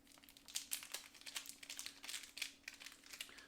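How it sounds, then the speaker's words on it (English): Cellophane wrap being peeled and crinkled off a cigar box, a continuous close, quiet crackling with irregular bursts and no talk. "It does come in the cello, so let's get this guy unwrapped."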